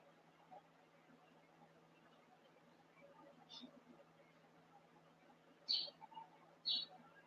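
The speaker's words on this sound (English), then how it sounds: "That's some birds chirping outside my window." Several short, faint bird chirps sound outside a window, scattered over a quiet indoor hum with no talking, the clearest calls arriving as brief bursts near the end.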